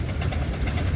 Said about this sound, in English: engine is the 12-ton Buffalo Springfield roller pulling a Russell Highway Patrol road grader